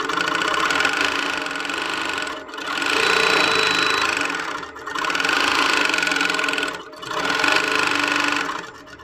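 A longarm quilting sewing machine runs in cruise setting, a fast steady mechanical whir of stitching in three long bursts separated by short pauses, close and fairly loud.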